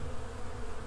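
A dense honeybee buzz rises from a hive frame crowded with workers in a colony with laying workers, a steady close drone with no break and no talk over it.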